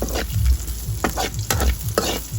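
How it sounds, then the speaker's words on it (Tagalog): Garlic sautés in a pan at home while being stirred, a loud close sizzle with rhythmic scraping strokes of the spatula repeating about every half second. "Saute garlic."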